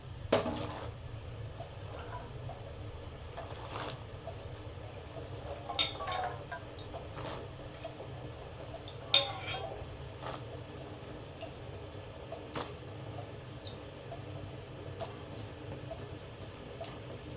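Boiled green peas go into a simmering pea kurma in a pot and are stirred in, heard as quiet scattered clicks and knocks of a spoon against the vessel over a low, steady background.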